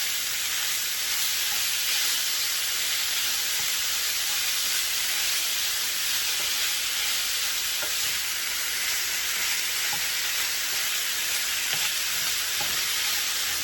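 Ground beef and a large heap of onions sizzle steadily in a pan, giving a loud, constant frying hiss with faint stirring scrapes and no talk.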